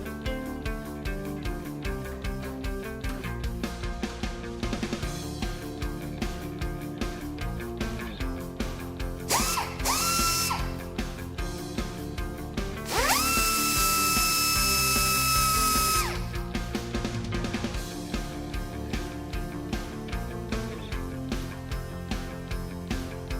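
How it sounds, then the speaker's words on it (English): Trailer hitch bolts are driven and tightened during the install of a CURT 13131 Class 3 hitch on a 2015 Ford Escape. A dense, rapid ratcheting clatter runs throughout, with two louder whining power-tool bursts partway through, heard close and without voices. "Torque all hardware to the exact values specified in the supplied instruction sheet."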